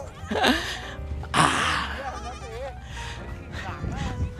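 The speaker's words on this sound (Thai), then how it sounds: "น้อง ๆ ก็ได้อิ่มกันแล้วนะครับ น้อง ๆ แพะนะครับ" Goats bleat in a series of wavering calls over several seconds at a scenic riverside viewpoint below a dam in Thailand, close and fairly loud, with a voice speaking softly in the background.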